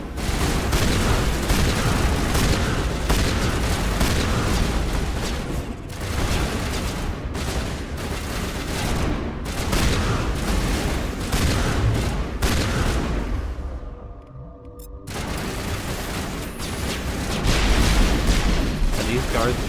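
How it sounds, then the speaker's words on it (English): Gunfire in the video game Mass Effect Legendary Edition: loud, dense, continuous volleys of shots and blasts with barely a break, pausing briefly near the end before resuming. "Why are they all shooting me?"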